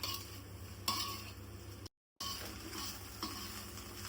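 Egg fried rice with curry leaves and coriander is stirred in a pan, with a soft steady sizzle and scraping of a spoon against metal, broken by one brief silent gap.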